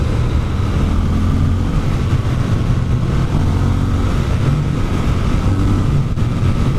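A Triumph Scrambler 1200 XE motorcycle is ridden hard: a loud, continuous low engine roar is mixed with heavy wind buffeting at the microphone, with no voices.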